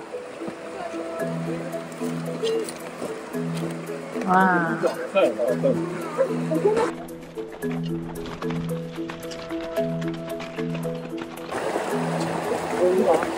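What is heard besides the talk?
fast-flowing glacial stream in Iceland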